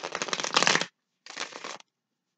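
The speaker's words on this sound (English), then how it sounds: "But I do need to shuffle these pretty well." Tarot cards being riffle-shuffled in two bursts, a crisp fluttering rattle lasting under a second, a short pause, then a briefer second riffle, close and clear in a quiet room.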